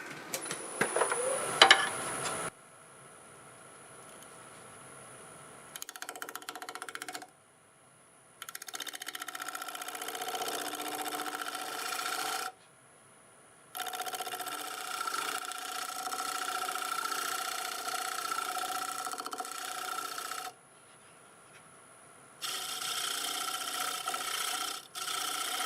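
Olive wood is worked with a scraper on a spinning wood lathe, a steady hum of the lathe overlaid with a close, raspy scraping that comes in several bursts separated by short quiet pauses.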